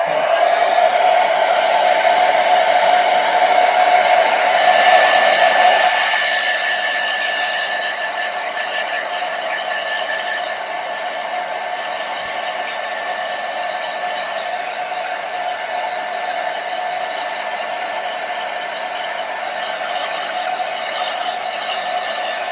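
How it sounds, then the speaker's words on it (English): A blow dryer runs steadily over a freshly painted watercolor watermelon, a loud continuous whir with a steady whine that drops slightly in level after a few seconds and then holds. "let me just dry it with my blow dryer because it's going to smear everything otherwise"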